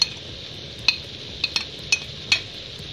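Garlic is stirred into peppers frying in a pan for Hungarian bograch goulash, a soft steady sizzle with a few sharp clinks of a utensil against the pan spaced irregularly.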